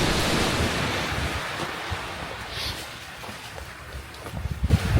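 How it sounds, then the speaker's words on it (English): Waves wash onto a beach on the Isle of Iona, a steady close surf roar with wind buffeting the microphone and a slight swell near the end. "And myself and Kate just stopped on the beach for a few minutes to enjoy it."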